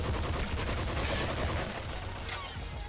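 Rapid machine-gun fire from a triple machine gun in a Nintendo Switch video game, a dense continuous burst of shots filling the whole stretch at steady loudness, with no talk over it.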